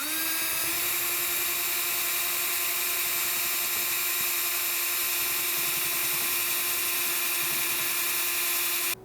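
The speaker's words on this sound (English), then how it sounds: "trying to drill these into the metal did not work" A power drill runs continuously, driving a screw into the metal roof of a van during a camper conversion, a loud steady whining tone held for several seconds before cutting off.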